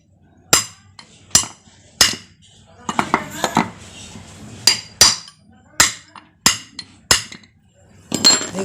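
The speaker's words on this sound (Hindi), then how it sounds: "इस तरह से हम बराबर इसको ठोक लेंगे" A hammer repeatedly strikes a wire seal into a Hero Duet scooter engine part, sharp metallic knocks spaced about a second apart, with a quick cluster of lighter taps in the middle.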